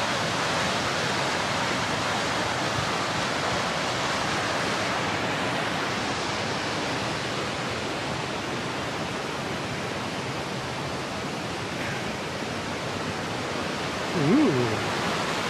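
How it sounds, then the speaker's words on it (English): A waterfall on the Iceline Trail gives off a steady, dense roar of rushing water that stays close and unbroken throughout, with a brief faint voice near the end. "Hey guide, what falls is this? Water. Waterfalls."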